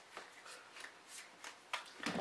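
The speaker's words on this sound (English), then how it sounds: "before we get started, of course, we got to shuffle our decks" A deck of Yu-Gi-Oh trading cards is shuffled by hand at a tabletop duel, giving a series of short, crisp riffling bursts close to the listener, with no talking.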